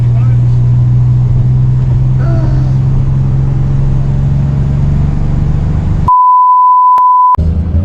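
A radar detector inside a twin-turbo Nissan 300ZX Fairlady gives one long steady electronic tone, loud and alone, after a stretch of low engine and road rumble.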